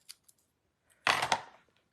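Scissors snip through thin paper backing for a Stampin' Up! card kit, cutting it in half. One close, crisp cut lasts about half a second after a couple of faint small ticks. No one speaks.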